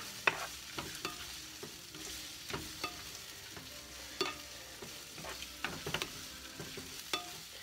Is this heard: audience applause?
no